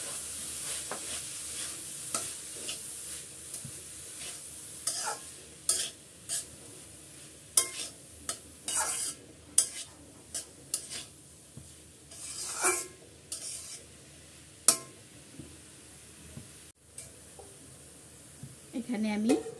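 Grated pointed gourd poured into a pan of cooked spice masala, then stirred with a steady low sizzle and repeated sharp spoon scrapes against the pan, close up, with brief gaps between strokes.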